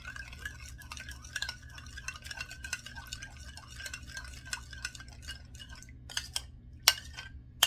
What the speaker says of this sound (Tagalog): Para yung ating shrimp wrapped with bacon ay may lasa. Ito, halo nyo lang siya.